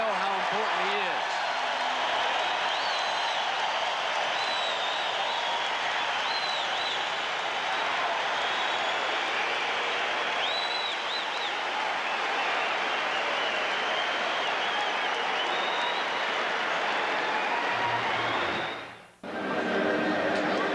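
Arena crowd noise at a 1985 Celtics–Pistons playoff basketball game, a dense steady roar and cheer beneath continuous play-by-play commentary, swelling slightly before cutting out near the end.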